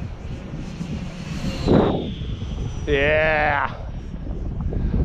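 An Air Tractor model plane makes a full-throttle low pass, its engine drone swelling as it approaches, partly under outdoor talk and a brief spoken word.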